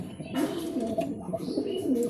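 A racing pigeon coos close by in soft, throaty, repeated rolls that fill the short stretch with no voices.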